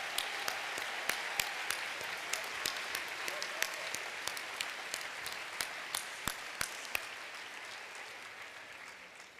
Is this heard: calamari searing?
no